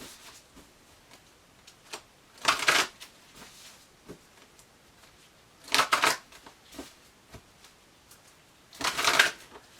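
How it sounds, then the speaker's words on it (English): Tarot cards are shuffled three times, each a quick, close riffle of flapping paper with quiet gaps and faint handling noises between. "One more shuffle for Taurus."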